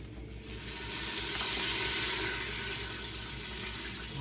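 Ginger, garlic and onions sizzle steadily in sesame oil in a pot, a loud continuous frying hiss that swells after the first half second and holds with no talking.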